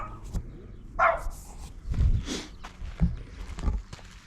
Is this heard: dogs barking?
yes